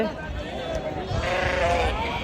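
Ewes and lambs at a sheep market bleat nearby in a wavering, overlapping chorus amid continuous outdoor background noise.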